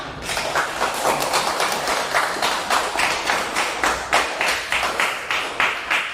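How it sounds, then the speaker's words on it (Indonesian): A classroom group of students claps hands together in a steady, fairly loud burst of applause with rhythmic slaps, no talking over it. "Tepuk tangan untuk kita semua."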